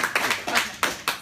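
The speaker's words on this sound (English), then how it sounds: "let's have a round of applause for Shira and Joe" A small audience at a radio show claps briefly, a few quick uneven hand claps close by lasting about a second.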